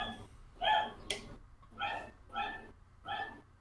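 A dog in a neighbouring building barks and yips in four or five short, evenly spaced bursts, fairly faint and distant, with no talking.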